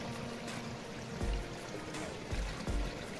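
Water splashes and pours steadily while it is fetched at a stream, a continuous close rushing with a few heavier gushes, no talk.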